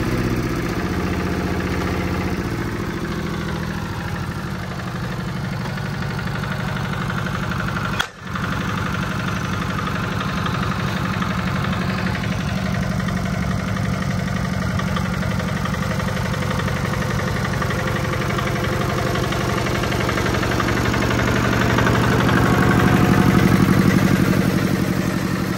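A surplus Japanese tiller engine runs steadily at close range, a loud continuous mechanical drone with a brief dip partway through and swelling slightly near the end.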